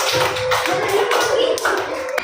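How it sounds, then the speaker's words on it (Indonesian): Classroom applause for the final student group during a teaching practice session, a loud continuous patter of hand claps filling the room with no voice over it. "Tepuk tangan untuk kelompok akhir"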